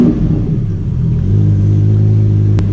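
Lamborghini Huracan Performante starting up in Corsa mode, a low steady engine rumble that swells and settles into a loud, close idle with a brief sharp click near the end.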